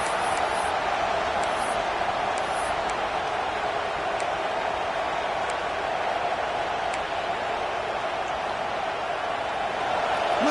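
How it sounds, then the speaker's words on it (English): The stadium crowd at a Georgia vs Michigan college football game makes a steady, broad roar of noise that stays far off and continuous, with faint ticking sounds scattered through it. "Listen to the crowd energy here in the early going."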